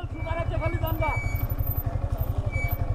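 A Yamaha XSR 155 motorcycle rides in second gear along a rough hill road in Bandarban on Maxxis tyres. The engine throbs steadily and close by, and someone talks briefly over it near the start.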